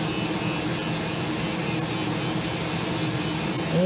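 Electric spinning toothbrush with Colgate toothpaste scrubbing tarnished silver earrings, a loud, steady, continuous buzzing hum throughout with no talk.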